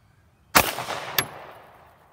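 Two sharp, loud pistol shots about half a second apart at an outdoor shooting session, each with a quick crack and a fading echo tail.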